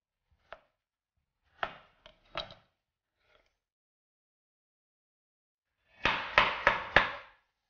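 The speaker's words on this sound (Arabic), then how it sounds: "شفتوا كيف قصيت الخيار؟" A knife cuts through a cucumber on a board, a few sparse single chops followed by a quick run of four crisp, close cuts, with silence between them.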